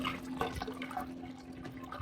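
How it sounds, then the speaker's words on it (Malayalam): Water poured from a measuring cup into a pot of rice for chicken mandi, a short close splashing gurgle against a faint steady hum, with no talking. "ഞാനൊരു 6 കപ്പ് അതേ മെഷറിങ് കപ്പിൽ വെള്ളം എടുത്തിട്ട് ഒഴിച്ച് കൊടുക്കണം"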